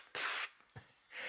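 A spray sound effect bursts out in a loud, close hiss, stops, gives a short faint puff, then comes back as a second softer hiss.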